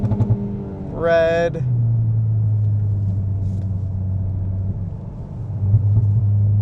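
Engine of a tuned Stage 3 Volkswagen MK8 GTI under acceleration, heard from inside as a steady low drone. Brief speech rides over it, with a short rising whine early on.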